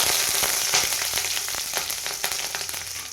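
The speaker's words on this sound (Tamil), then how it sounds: "சின்ன கடாய் வச்சு எண்ணெய் ஊற்றி கடுகு உளுந்து கொஞ்சம் போட்டுக்கலாம்" Mustard seeds and urad dal sizzle and crackle in hot oil in a small kadai, a dense continuous fry with sharp popping bursts throughout, close and fairly loud with no talking.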